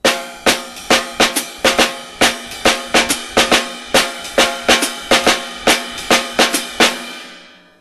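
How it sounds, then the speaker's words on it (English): A drum set plays a swing pattern with an added snare drum figure, giving a steady series of crisp, loud strikes in even rhythm with cymbal wash between them, then ringing out to silence. "Figure 45 is swing with the added snare drum pattern"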